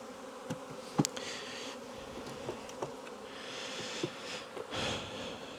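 Honey bees buzzing at a hive during queen rearing, a continuous close insect drone with occasional knocks and handling sounds.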